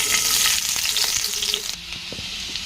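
Onions hit hot oil with fenugreek seeds and sizzle loudly and close, a dense crackling hiss that settles into a quieter steady fry partway through, with no speech.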